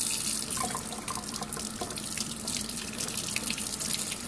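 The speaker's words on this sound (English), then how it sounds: "Now we're going to put it under some warm water." A Scrub Daddy sponge held under a running tap of warm water, splashing and gurgling steadily at close range for a few seconds, with no talking.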